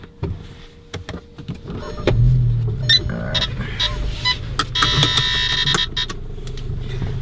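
A Volkswagen MK7 GTI tuned to Stage 2 with 20,000 miles starts up, a starter whir and clicks giving way to a low engine rumble that settles into a steady idle, close by.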